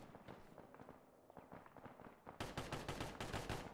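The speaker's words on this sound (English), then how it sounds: "That's not a friendly gun, is it?" Enemy gunfire in a tactical co-op military shooter game, rapid bursts of shots crackling fairly faintly at first, then a denser, louder stretch of automatic fire, with no talking.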